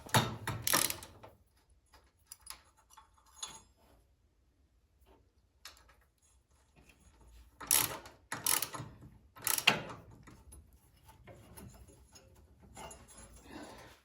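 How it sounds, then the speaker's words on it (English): Ratchet wrench clicks and metallic clanks come close and sharp as a retainer bar is unbolted on an old Craftsman 9 HP snowblower, in short bursts separated by quiet pauses. "But this is bolted on, I'm just going to unbolt it and cheat and then put it back."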